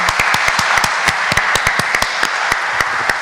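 Audience at an academic gathering applauds the organizing committee, a dense wash of clapping with a few sharp individual claps standing out, steady and fairly loud throughout.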